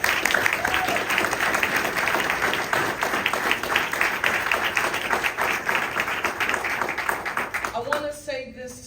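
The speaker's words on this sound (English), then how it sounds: "Give our building trades a huge round of applause." A crowd claps for building trades workers at a workforce investment announcement, sustained close applause that runs for several seconds and then thins out near the end.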